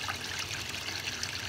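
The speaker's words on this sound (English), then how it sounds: "there's something extremely satisfying about pouring wax" Melted beeswax being poured in a honey house: a steady, close liquid trickle and splash, continuous and fairly soft, with no talking.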